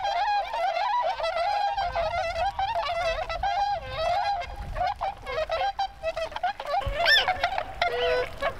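Tundra swans wintering at a flooded retention basin call repeatedly while flapping their wings, a loud chorus of honking, bugling cries from several birds, close and continuous.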